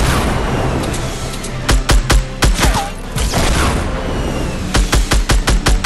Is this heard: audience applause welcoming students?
no